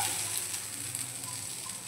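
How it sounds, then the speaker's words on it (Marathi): Pomfret coated in semolina, Malvani rava fry style, sizzles steadily in a hot pan, a continuous close crackling hiss with no pauses and no voices. "पापलेट बघा छान फ्राय झालाय."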